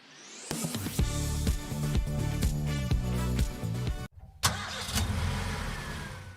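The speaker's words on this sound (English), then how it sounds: "The sound of a car starting." A car engine cranks and fires up, then runs steadily with a rough mechanical rhythm; a brief cutout is followed by another start and idling.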